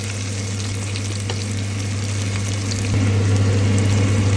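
Onions sauteing in a pan for home-style picadillo give a steady, close sizzle and crackle that swells slightly louder partway through, over a constant low hum, with no talking.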